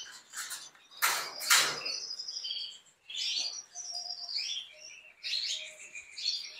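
Canaries chirp and trill in bright, busy bursts close by, with short pauses between twittering phrases.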